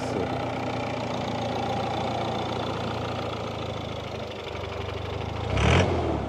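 A car engine idles steadily at a used car fair in Caruaru, close and even, with a brief louder rev near the end.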